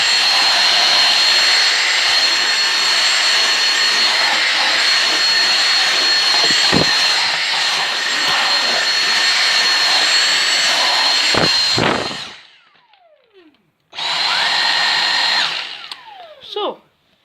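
A Dyson V6 cordless vacuum cleaner with a cleaning head picks up biscuit crumbs, its loud, close, steady high whine running for about twelve seconds, then cutting off, with a brief restart and a short burst near the end.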